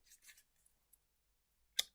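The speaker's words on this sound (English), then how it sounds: "I'm going to keep shuffling until I feel I need to stop." A flower therapy card deck being shuffled during a card reading: a couple of soft papery riffles, a quiet pause, then one sharp crisp snap of cards near the end, close and faint, with no talk.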